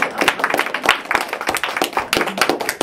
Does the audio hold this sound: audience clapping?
yes